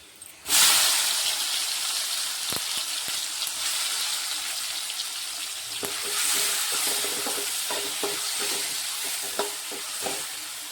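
Chopped tomato frying in a pan of onion palya, a steady loud sizzle and hiss with scattered clicks and scrapes of a spoon stirring, close and continuous without talk.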